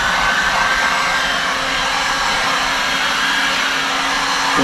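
Heat gun blowing steadily on the underside of a Honda S2000 rear spoiler during installation, a constant close airy whoosh with a faint motor whine throughout, no talk.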